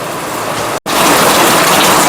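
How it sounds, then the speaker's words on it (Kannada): Heavy rain pouring steadily outdoors near a coffee shop, a dense broadband hiss filling the whole clip with one brief dropout before it resumes, loud and continuous with no talking. "ಒಳ್ಳೆ ಮಳೆ ಬರ್ತಿದೆ"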